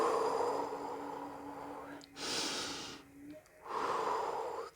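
Slow, deep breaths come during a guided candle-magic meditation, with two long, airy inhale-exhale surges separated by quieter pauses over a soft background hum.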